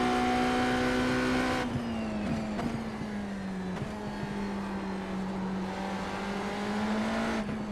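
An LMP2 race car on track, its engine droning loudly and steadily, then dropping in pitch under braking with brief tire chirps and shifts, a close continuous roar throughout with no talk.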